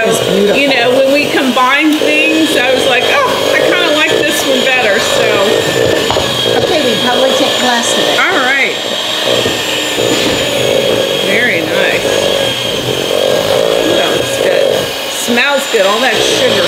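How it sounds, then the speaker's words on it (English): An electric kitchen mixer beating sugar for coconut cream eggs runs with a steady, loud motor whine throughout, while people talk over it. "that is my husband's mixer."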